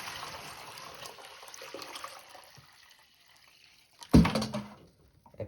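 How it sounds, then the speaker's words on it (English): Water pours briefly into a bucket with a sudden close splash and gush near the end, after a quiet stretch of faint background hiss and trickling. "I might go ahead and pour some water into my bucket"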